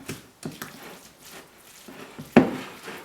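Sausage and cream cheese filling is worked in a bowl, giving soft squishy stirring sounds and light scrapes, with one sharper knock of the utensil against the bowl near the end.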